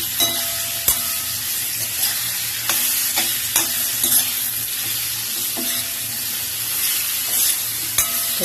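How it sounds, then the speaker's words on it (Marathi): A spoon works through a spiced mango kol mixture with red chili powder in a sizzling pan, giving a continuous fry hiss punctuated by regular metallic scrapes and taps roughly every second, close and without voices. "आणि हा आता आपण सगळ्याला चांगलं मिक्स करून"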